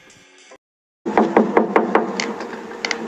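Knuckles rap on a clinic door at a dental school in a quick, loud run of knocks, coming right after a brief bit of other sound and a moment of silence.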